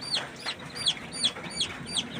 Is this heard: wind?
no